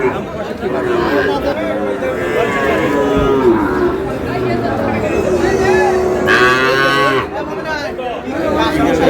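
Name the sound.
Sahiwal bull calves and cattle mooing at a market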